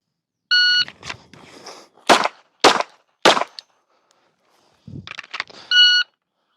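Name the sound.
timer beep then three pistol shots while retreating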